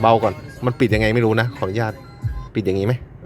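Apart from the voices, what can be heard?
None of the usual background noises is heard.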